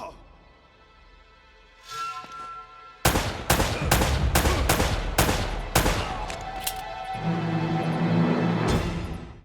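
Rapid bursts of gunfire from Uncharted: Drake's Fortune Remastered as enemies are gunned down, loud repeated shots in quick clusters over a sustained din, with quieter game sounds before and after.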